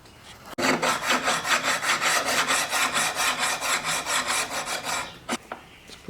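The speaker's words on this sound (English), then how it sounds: "What I'm going to do is just going to get a file and I'll address that." A hand file worked across a metal vise in steady back-and-forth strokes, about two dozen rhythmic rasping passes, close and loud with no talk.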